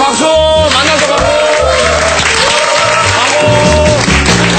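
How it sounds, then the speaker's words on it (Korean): Studio audience applauding at a Korean variety show, steady dense clapping mixed with loud music and voices throughout. "자, 다 같이 박수!"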